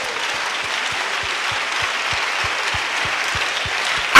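A church congregation claps together in a steady, regular rhythm during a lively service, the clapping broad and sustained over a background of crowd noise, with a louder burst right at the end.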